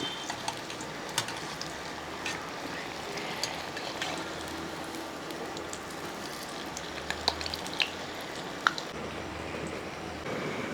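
A Kerala-style evening snack fries in a little oil in a pan, turned over on both sides, giving a soft, steady crackling sizzle with occasional sharper pops, fairly quiet and with no talk.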